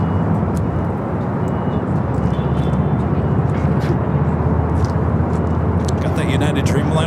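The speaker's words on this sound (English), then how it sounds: "that is the Delta 767-400ER heading back to Atlanta" A Delta Boeing 767-400ER jet departing LAX for Atlanta roars loudly and steadily, a thick continuous engine rumble close by, with a voice speaking over it.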